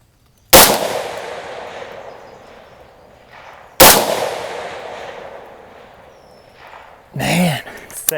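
Two sharp, loud 6.5 Grendel rifle shots fired at steel targets at long range, up to 650 yards, during precision rifle practice, about three seconds apart, each with a long rolling echo; a short burst of talk follows near the end.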